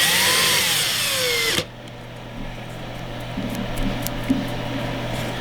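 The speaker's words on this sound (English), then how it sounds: "And now I'm going to cut this rod to length." A power tool cuts a rod to length, giving a loud whining, rising and falling tone for about a second and a half before it stops abruptly, leaving low workshop hum and faint clicks.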